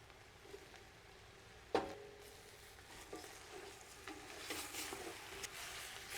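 Tomatoes dropped into a hot pot of tomato paste for Mexican chicken and rice soup give a sudden burst of sizzle, then a steady, moderate frying hiss with faint stirring and scraping.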